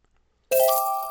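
A short payment notification chime from the Tangled app rings out after half a second of silence, a bright, clear electronic tone that sustains and slowly fades.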